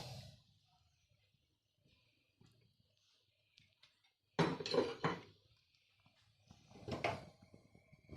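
Two metal forks set down under a dish in a home kitchen while preparing milk pilaf, giving a couple of sharp clinks of cutlery on crockery, separated by quiet pauses.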